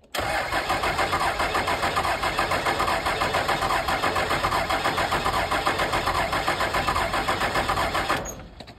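A Cummins diesel truck engine, with fuses pulled from it, cranks loudly and rhythmically for about eight seconds without catching, then the starter stops and the noise cuts off abruptly.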